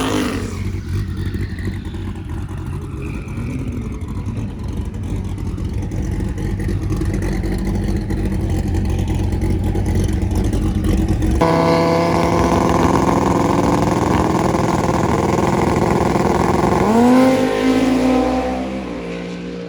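A Dodge Viper makes a drag racing pass at a strip event, its engine droning at idle and staging before a sudden loud launch that revs hard and continuously through gear changes, then fades as the car pulls away.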